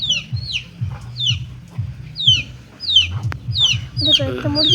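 Chickens clucking close by in a repeated rhythmic series of calls, with higher chick peeps over them and a sharp knock partway through.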